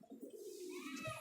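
A single Galwa pigeon gives one soft, rolling coo up close, brief and quiet against a still background.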